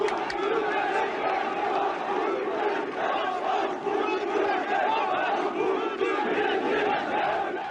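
A large, enthusiastic crowd of militants roars and chants without pause at a 1980 rally for Colonel Türkeş, with voices massed together and loud throughout.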